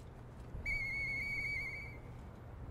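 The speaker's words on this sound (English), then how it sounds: "We grab the faded whistle and we use." A faded whistle item blown in the video game Lies of P gives a clear, sustained tonal whistle with bright overtones, lasting over a second and then cutting off, heard alone over a low background hum.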